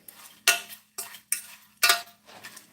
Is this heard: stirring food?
yes